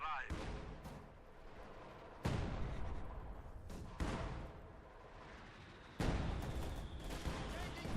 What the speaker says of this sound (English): we have a high explosive barrage going out from the Zis gun on these grenadiers in the center